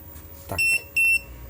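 An overloaded 1000 W power inverter sounds its alarm: two loud, sharp electronic beeps in quick succession after a brief click, close by with a faint hum underneath.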